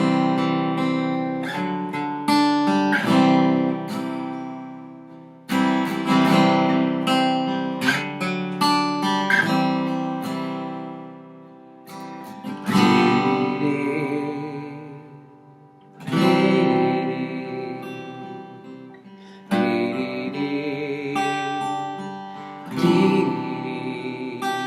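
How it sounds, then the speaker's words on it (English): A worship band plays an instrumental transition from "Here I Am to Worship" into "Isn't He," with full sustained chords swelling and falling in broad phrases, and no singing yet. "going from Here I Am to Worship to Isn't He will sound like this"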